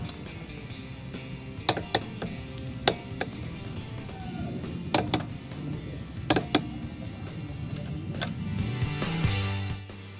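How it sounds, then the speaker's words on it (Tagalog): Torque wrench tightening the wheel nuts on a Toyota Wigo, giving sharp metallic clicks in small bursts over a steady low background hum, close and fairly loud. "Using a torque wrench, tighten the wheel nuts to spec."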